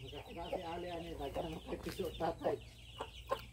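Chickens clucking on a backyard farm, short bursts of clucks and squawks close by over a steady low hum, with a person speaking briefly among them.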